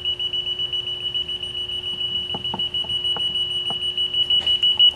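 An ATS Bullseye leak detector sounds its alarm, a steady high electronic tone with a lower hum beneath, joined by a few faint clicks and taps nearby.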